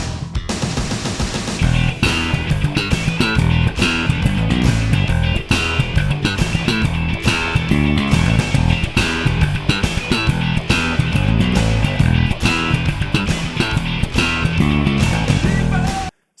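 Bass guitar drives the full section of a 1989 funk-rock bass line, a dense, continuous groove of busy percussive notes, loud and steady throughout, with no talking.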